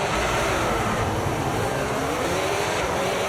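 F1 cars roar together at a race start in the F1 25 video game, a dense, continuous engine drone held at a steady loud level throughout.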